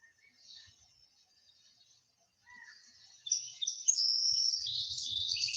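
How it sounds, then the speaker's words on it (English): Birds chirp and sing, faint and sparse at first, then rising into a brighter, busier trill of tweets in the second half, heard alone with no talking. "You hear the songs of the birds and the run of the river as it delivers nourishment throughout the land."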